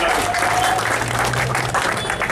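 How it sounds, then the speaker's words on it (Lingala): Audience applause at a political meeting of the UDPS party, a dense, steady clatter of clapping that runs loud and unbroken through the whole stretch. "Acclamez pour vous."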